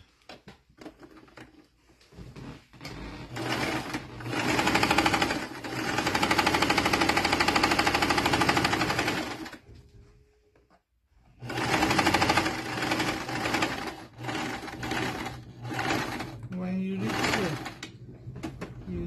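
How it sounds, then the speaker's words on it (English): A sewing machine stitching fabric for a bow turban hat runs in long stitching bursts, close and buzzing, pausing briefly before starting again with a few softer sounds between runs. "now I will use my sewing machine and"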